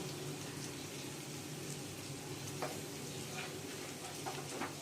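Ground spices being stir-fried with egg and green peas in a pan for a Bengali egg kosha, a steady low sizzle and stirring running throughout with a few light scrapes.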